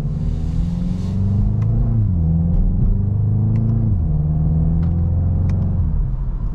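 A 2022 VW Golf GTI SE with a 7-speed DSG dual-clutch gearbox accelerates hard in manual mode, its engine note climbing, then dropping sharply at quick paddle-shifted gear changes. Loud and steady inside the cabin, with no talking.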